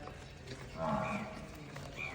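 A large, long-bodied buffalo on a dairy farm lets out a single low, drawn-out moo at close range, quiet and alone.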